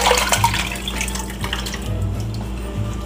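Crushed stewed tomatoes and chicken stock poured into a gumbo pot, a close, fairly loud liquid glugging and splashing that continues steadily with no talk.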